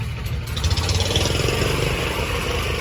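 A Ford 6610 tractor engine runs steadily at an old threshers reunion, a loud, close, even diesel rumble held throughout with no one talking.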